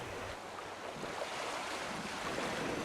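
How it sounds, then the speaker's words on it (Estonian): Rocca al Mare waterfall on the grounds of the Estonian Open Air Museum in Tallinn, fed by a drainage ditch and dropping from the Kakumäe cliff: a steady, even rush of falling water with some wind buffeting the microphone. "Rocca al Mare juga asub Tallinna linnas Eesti Vabaõhumuuseumi territooriumil."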